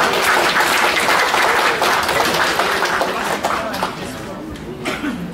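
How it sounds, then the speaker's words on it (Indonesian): An audience bursts into applause during a spiritual talk before a meditation, thick clapping at first that gradually thins and fades toward the end, with some murmuring and light chatter mixed in. "Tepuk tangan dulu ya."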